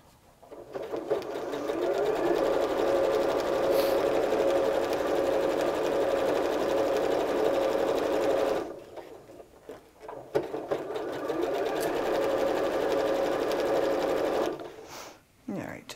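A sewing machine stitches quilt fabric for a layered brick quilt in two long steady runs, a close whirring hum that stops briefly between them, with a person talking over it.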